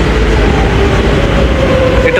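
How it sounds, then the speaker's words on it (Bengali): A Madrid Metro Line 6 train runs through Príncipe Pío station, a loud steady rumble and rolling hum filling the platform with a faint high whine along the track. "এটা হচ্ছে 6 নম্বর মেট্রো"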